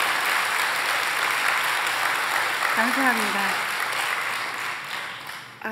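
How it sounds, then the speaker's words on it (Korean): Sustained audience applause fills a church testimony meeting hall, steady and dense throughout, with a woman's brief spoken thanks rising over the clapping partway through. "오늘처럼 이렇게 박수를 많이 쳐주시는 건 처음인 것 같아요"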